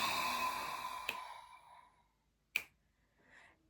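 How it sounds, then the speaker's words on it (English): Crisp finger snaps keeping a slow beat during a yoga session, a few sharp isolated snaps spaced about a second or more apart, with soft breathing in between in a quiet room. "I'm gonna keep snapping here just to offer a bit of a beat, because we don't have music behind us here."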